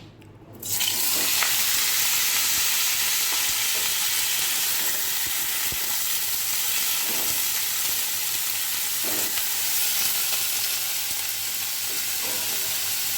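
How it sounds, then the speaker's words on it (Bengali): Jackfruit pieces and potatoes fry in hot oil, a steady loud sizzle that starts abruptly and continues throughout with occasional faint stirring clicks, no voices. "এখন আমি এই তেলের মধ্যে কাঁঠাল আর আলুটা একসাথে ভেজে নেব।"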